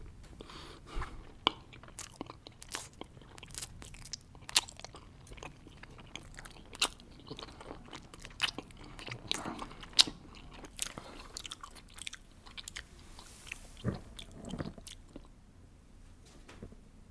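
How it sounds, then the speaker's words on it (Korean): Eyeball-shaped gummy jelly candy is bitten and chewed close up: soft squishy chews and crunchy bites recur irregularly for about seventeen seconds, with no voices. "자, 우선 눈알젤리부터 먹어볼까?"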